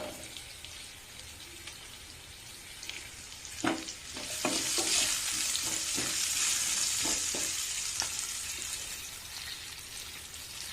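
Chopped onions sizzle in oil in a pan over a medium flame with green chillies and a pinch of salt, a steady hiss broken by scattered spoon scrapes and clicks, with no talking.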